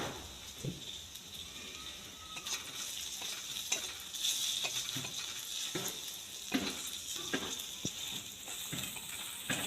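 Chopped ginger fries in oil with fenugreek leaves while egg chops are being made, giving a steady, fairly quiet sizzle broken by scraping stirs and small taps of a spatula against the pan.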